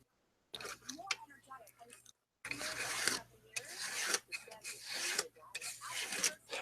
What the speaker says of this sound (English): I'm just scraping right now.